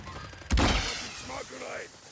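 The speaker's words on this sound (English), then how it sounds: "I got sniped from one up the hill, so careful." A single sharp, loud sniper rifle shot cracks out in a battle royale video game, followed by a brief decaying echo and faint voices.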